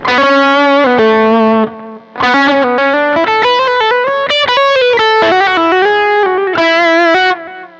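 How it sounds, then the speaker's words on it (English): Loud overdriven electric guitar through a Boss Nextone Special amplifier's lead channel plays lead phrases with long sustained notes and a lingering wash of delay and reverb between phrases; no voices. "I can also turn the delay and reverb on that one if I wanted to."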